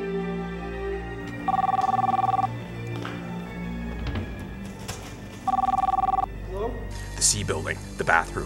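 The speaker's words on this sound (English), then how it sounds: "answer the cell phone before it stops ringing" A cell phone ringing in a video game, two bursts of a steady electronic ring tone separated by a pause, heard over ambient game sounds and brief voices.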